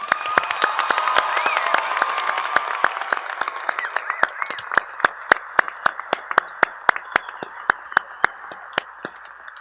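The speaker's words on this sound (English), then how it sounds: "let's get started with a big round of applause for our graduates" Audience applause for graduates at a fall business commencement ceremony: dense, sustained clapping from a large crowd, gradually thinning to a few sharp, distinct claps toward the end.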